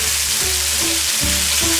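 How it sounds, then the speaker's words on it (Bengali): Green beans sizzle in a hot pan while being fried for Bengali moong dal. Close, steady frying hiss is broken by a few quick stirring scrapes. "এবং সিমগুলোকে আরো 2 মিনিট ভেজে নিচ্ছি।"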